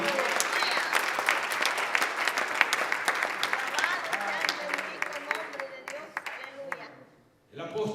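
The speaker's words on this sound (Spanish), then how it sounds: "Dele más fuerte ese aplauso a Jesús" Church congregation applauding Jesus, a dense, steady wash of many hands clapping for several seconds with a voice over it, then fading out briefly before picking up again at the end.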